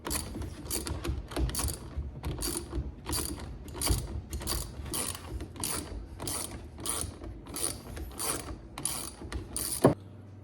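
A socket wrench ratchets rapidly while backing bolts out of a Husqvarna 136 chainsaw, a close, continuous run of clicking bursts that ends with a single sharp clack.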